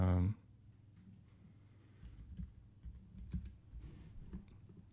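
Light, irregular clicks of typing on a computer keyboard, soft and close, a short run of keystrokes after a brief loud burst at the start.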